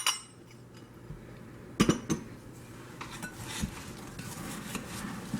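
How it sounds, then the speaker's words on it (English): A utensil clinks against a bowl while sugar and flour mixture is stirred into apples and vanilla for an apple crumb pie, with a few sharp knocks near the start and lighter scraping taps after. "take this mixture and mix it into the apples and vanilla"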